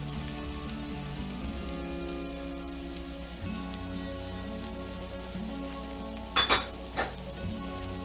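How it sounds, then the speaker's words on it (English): Bacon dropped into a hot pan sizzles with a soft, steady crackle, close up, punctuated near the end by a couple of sharp clattering knocks. "Now let's add our bacon. Bacon goes in."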